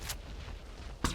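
A gunshot fired at a creature's head in the video game ARK Survival Evolved, during a lava cave walkthrough: a short sharp crack, a hush, then another burst of fire at the end, moderately loud with no talk.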